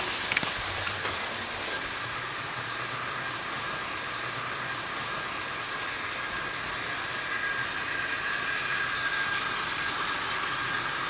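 Wrenn GWR Castle Class model steam locomotives run along a model track, a faint, continuous mechanical whirr and hiss with a thin high whine, opening with a couple of small clicks.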